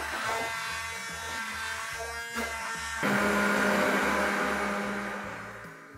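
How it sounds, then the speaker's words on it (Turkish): Blender pureeing cooked pumpkin for soup, a steady close motor whir that shifts pitch midway as the contents break down, heard alone without talk. "Şimdi bunu blenderdan geçireceğim."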